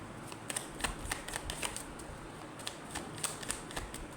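Tarot cards are shuffled close by, a soft continuous riffling patter with quick crisp card snaps scattered through it.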